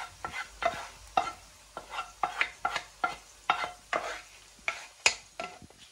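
Meat and onions for fajitas sizzle in a pan as they are stirred, giving a steady run of close, scraping strokes over a constant frying hiss.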